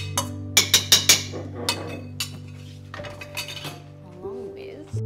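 Metal spoon clinking against a pot while stirring lamb and potato curry, Kashmiri aloo gosht, several sharp clinks near the start, then softer scrapes and clatter, with quiet kitchen hum and occasional background voice.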